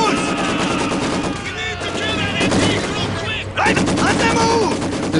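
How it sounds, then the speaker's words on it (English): Machine gun fire crackles from the Company of Heroes 2 video game, dense bursts of gunfire continuing throughout amid battle noise, with voices talking over it. "Taking machine gun fire!"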